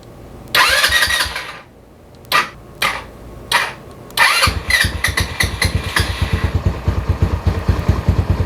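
A Venom X18R 200cc motorcycle being cranked with several short starter bursts before the engine catches, then settling into a close, rapid, thumping idle.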